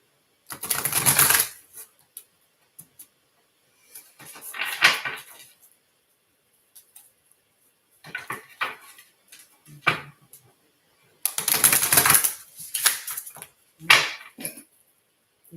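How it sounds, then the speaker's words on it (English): Stiff tarot cards being shuffled by hand, coming in irregular bursts of sharp riffling and snapping, some louder, separated by quiet gaps, close to the microphone. "Give it a couple shuffles here."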